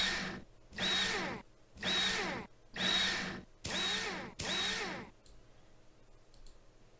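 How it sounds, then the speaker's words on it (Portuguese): Power tool driving bolts onto a Mars rover wheel in a mechanic simulator game, five evenly spaced loud whirring bursts, each about a second long, followed by quiet. "E agora é só parafusar"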